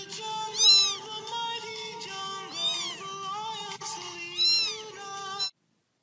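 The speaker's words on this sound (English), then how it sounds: "No, get this cat out of here!" A cat meows repeatedly and loudly, several drawn-out, rising-and-falling cries in close succession with no one talking.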